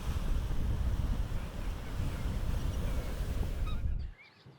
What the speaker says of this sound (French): il y a un petit vent qui fait plaisir